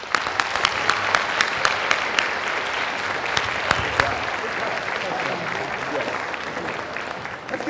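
Sustained applause from a school audience at a State of the Schools address, dense clapping with a few sharper claps standing out and a speaking voice over it near the end.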